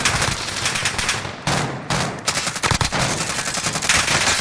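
Loud, close automatic gunfire bursts in Call of Duty on the Rebirth map, rattling volleys broken by brief gaps with no talk over them.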